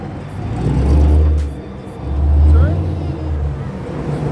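A Ford S550 Mustang GT fitted with BMR drag springs revs twice in quick succession, each deep engine surge swelling and falling away, with voices talking over the idle between them.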